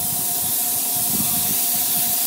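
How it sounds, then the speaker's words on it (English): An airbrush sprays paint in a steady, loud hiss with a thin constant tone running through it, close up and unbroken with no voices. "I pull it back a little bit more, you get a thicker spray."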